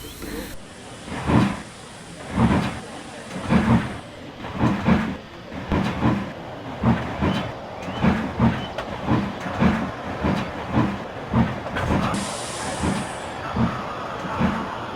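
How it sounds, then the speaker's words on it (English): Three steam tank engines coupled together start to haul a train, giving a steady rhythmic chuffing that gradually picks up pace, with a voice speaking over it. "So the three tank engines were coupled together, Thomas nearest the train, Duck in the middle, and Percy at the front"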